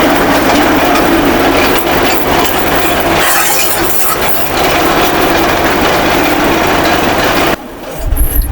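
A chaff cutter chopper machine with blade and engine chops tree branches, a loud continuous mechanical roar with grinding texture that dips briefly midway and drops off near the end.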